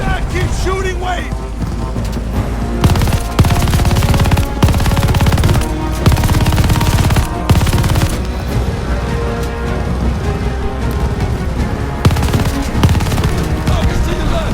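Light machine gun fire in the Call of Duty Vanguard video game, with loud sustained automatic bursts broken by brief pauses and mixed with other battle noise and shouted voices.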